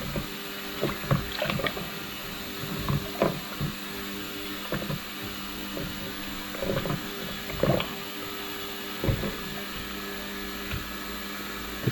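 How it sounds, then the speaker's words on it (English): Triumph TR7 car parts being rinsed in a bucket of ice cold clean water: irregular splashing, sloshing and clinking of metal pieces in the water over a steady background hum, close and moderately faint. "shake off all the excess cleaning solution, straight into the bucket of ice cold"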